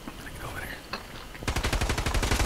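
Gunfire from a sniping fight in the Fortnite video game: near-quiet at first, then a rapid run of sharp, loud shots in quick succession filling the last second.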